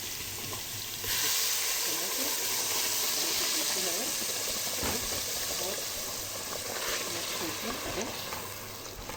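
Garlic sizzling in a pan as tomatoes are added, a steady hiss of frying that flares louder when the tomatoes hit the oil, close and continuous beneath someone talking.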